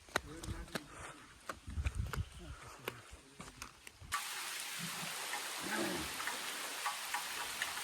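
Heavy rain falls through a forest, first as scattered drops and patter under a voice, then as a steady, dense, even hiss that fills everything once the talk stops.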